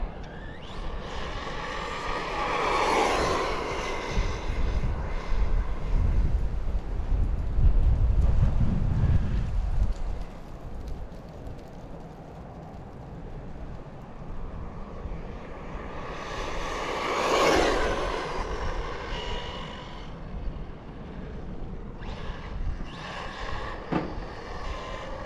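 A fast Team Corally Syncro 4 RC car on a 4S battery whines past twice during its first bash, each pass rising and fading, with wind buffeting the microphone in between.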